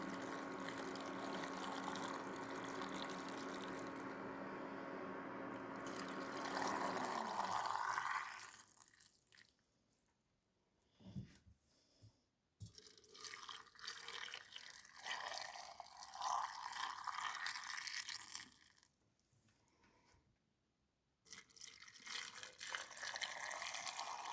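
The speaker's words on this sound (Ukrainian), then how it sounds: "І так закипів наш розсіл, цукор розчинився і заливаємо ним сливи" Hot sugar brine poured over plums in glass jars, a steady liquid rush and trickle that runs for several seconds, stops, then returns in bursts as each jar is filled, near and fairly loud.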